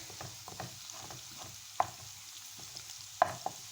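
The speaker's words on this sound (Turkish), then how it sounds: "sebzelerin sertliklerine göre sırayla hepsini kavurmaya koyacağım" Chopped vegetables sauté in a hot pan for a bulgur pilaf, giving a steady, soft sizzle. A few sharp clinks from a stirring utensil cut through, and no one speaks.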